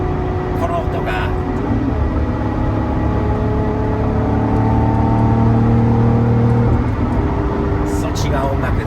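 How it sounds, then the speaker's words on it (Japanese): A Lamborghini engine revs steadily with rising and falling tones, recorded from inside the car with the windows open, and someone talks over the engine throughout. "エンジンの音が音楽なんですよね、本当は。"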